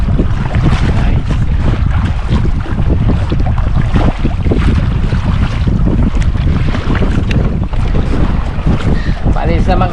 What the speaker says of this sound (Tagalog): may dumaan ng bangka mga guys